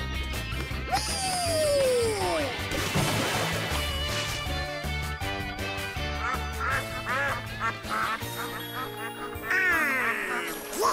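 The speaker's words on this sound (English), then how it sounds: "Look at Donald and his ducks! A boy, a boy, a boy! Oh, with a quack, quack" Cartoon ducks in Mickey Mouse Clubhouse quack repeatedly over bright, busy music, the honking calls coming close together and loud amid swooping sounds.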